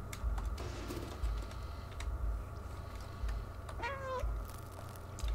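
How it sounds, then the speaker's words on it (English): A cat meows in the video game Stray, a single clear meow over a steady droning in-game background hum with soft ambient tones. "when you meow it gives you hints on where to go"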